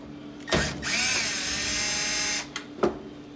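Power drill backing screws out of a washing machine's lower panel: a short whir, then a sustained close buzzing run of about a second and a half, followed by a couple of small clicks.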